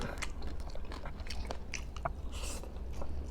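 Close-up biting and chewing of barbecued pork ribs, with crunchy bites and wet mastication over a steady low background, a few sharper crunches standing out.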